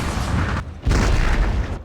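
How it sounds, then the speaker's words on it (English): Artillery fire in the Total War: Fall of the Samurai video game, two heavy sustained booming blasts with a brief dip between them, loud and close. "Let's see if I can hit anything with my artillery."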